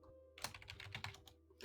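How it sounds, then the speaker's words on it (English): Rapid, steady clatter of keys on a computer keyboard, close and fairly quiet, a brief burst of typing with no talk. "This is a lot of typing."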